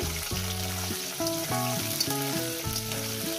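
Potatoes frying in a pan for a rohu fish curry give a steady, close sizzle, with a tonal background melody playing over the crackle throughout.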